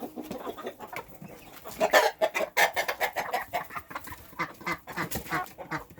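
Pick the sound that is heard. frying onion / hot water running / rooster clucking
rooster clucking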